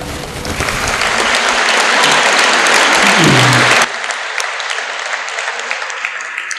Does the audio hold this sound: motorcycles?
no